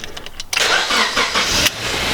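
A Honda car with a swapped manual transmission cranks briefly, then its engine catches and settles into a loud, steady idle close by, with no voices over it.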